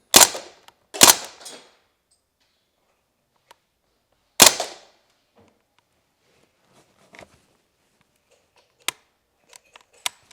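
An Umarex Strike Force CO2 air gun fires a few sharp, loud cracks in quick succession near the start and another a few seconds later. Fainter clicks and small mechanical taps are scattered through the quiet that follows.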